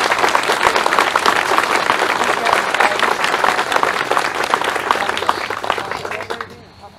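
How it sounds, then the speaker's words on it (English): Dense, sustained audience applause at a ceremony, loud and steady for about six seconds before tapering off at the end, with a murmur of crowd noise beneath the clapping. "a round of applause for Steve,"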